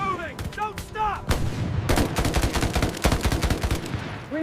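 Battle gunfire from a war film's 1944 Omaha Beach D-Day landing scene, with dense rapid bursts of machine-gun and rifle shots cracking close and loud, heavy booms underneath, and shouting voices mixed into the din.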